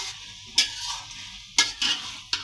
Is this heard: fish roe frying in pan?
yes